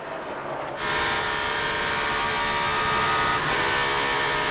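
Onboard engine of a NASCAR race car during 2003 Pennsylvania 500 practice, roaring loud and steady at high revs after a sharp rise in pitch, with the whine continuing without a break.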